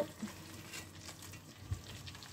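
Breaded curry-coated fish fillet sizzling in a pan with sauce after being flipped, a steady low frying hiss with soft crackles and a small clatter near the end.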